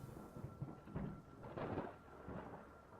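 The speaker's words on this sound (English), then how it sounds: "Why am I hearing thunder? Is that my? Oh, it's the spell." Rumbling thunder used as a spell effect in a tabletop game, rolling in a few low swells with a rain-like hiss beneath, moderately loud, without talk.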